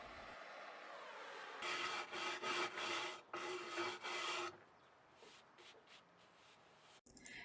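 A brush scrubs hard along burnt wood grain with a run of rapid back-and-forth rasping strokes, loud and close, then eases into lighter, fainter strokes.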